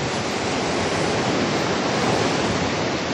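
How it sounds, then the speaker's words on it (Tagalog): Big storm-driven sea waves crashing onto a shore, a dense continuous roar of surf and spray that stays loud and unbroken with no voices. "Di tayo makakaligo dahil ang laki ng mga alon."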